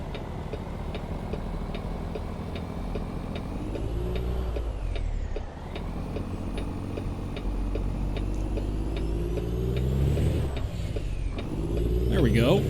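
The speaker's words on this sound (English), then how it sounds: "A little morning rush hour traffic." Road traffic in American Truck Simulator during a morning rush hour, a steady engine drone with shifting tones, faint rhythmic ticking and a brief air-brake hiss, continuous throughout the clip.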